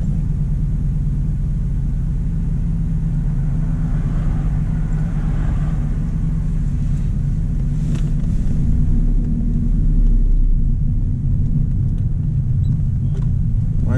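Car pulling away and driving during a mock driving instructor test, a steady low engine and road rumble heard from inside the cabin, continuous and fairly loud with no talking.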